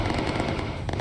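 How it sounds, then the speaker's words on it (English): An aircraft blows apart in the video game Bomber Crew, a loud, dense burst of crackling, rumbling explosion noise that fills the whole second with no pause. "he blew up with a big explosion"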